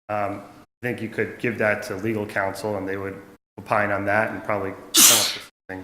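A single sharp sneeze bursts out near the end of a finance committee meeting, loud and brief, right after someone speaking steadily.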